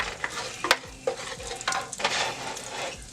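Chicken fried rice being stir-fried in hot oil in a wok, a steady close sizzle broken by several scraping stir strokes and light clanks of the spatula.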